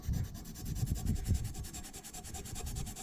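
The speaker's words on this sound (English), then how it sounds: "I'm just using a bit of WD-40 and some of the Scotch-Brite" Scotch-Brite pad scrubbing surface rust off a ZXR250 motorcycle part with WD-40, a steady rhythmic rubbing close by with repeated back-and-forth strokes and no talking.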